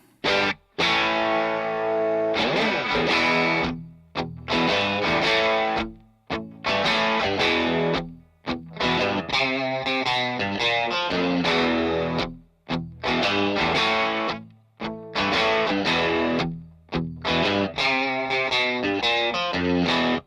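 White Telecaster bridge pickup drives a Moore JFET boost pedal run at 18 volts, chugging distorted rhythm chords in tight bursts separated by short choked gaps, loud and up front with no talking.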